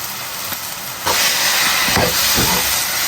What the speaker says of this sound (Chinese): 继续给它翻炒，炒出酱香味儿。